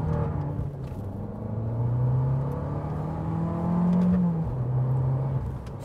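A 2018 Fiat Abarth 595 engine revs steadily, its loud close drone rising and falling in pitch across two long swells before easing back, with no voices over it.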